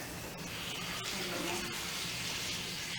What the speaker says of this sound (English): we want to dump a half a cup of our warm or hot water in here